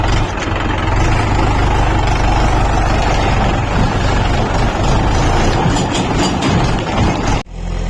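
A farm tractor's engine runs steadily and close by on a rough, bumpy dirt track, a dense low diesel rumble holding throughout before cutting off abruptly near the end.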